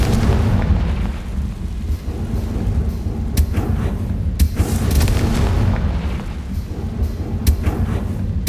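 The Confringo explosion spell in Hogwarts Legacy sets off booming, rumbling blasts with sharp cracks, several bursts over a thick, continuous low roar.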